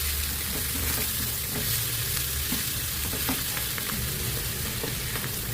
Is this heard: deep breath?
no